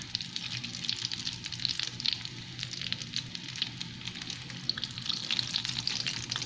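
Potato lollipops frying in hot oil over a medium flame, a steady, dense crackling sizzle that holds evenly throughout at close range, with no talking.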